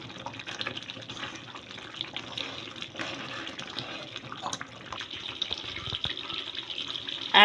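Water poured into a simmering tomato and sev curry, giving a steady splashing, running-water sound close by with a few small drips, without any talk.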